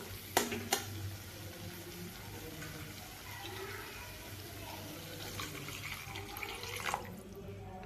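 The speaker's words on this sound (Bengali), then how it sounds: "এবার আমি এখানে একটু জল অ্যাড করব" Water added to a well-fried spice paste for a fish roe curry, producing a brief pour followed by a steady hiss and bubbling, with sharp clicks near the start and end.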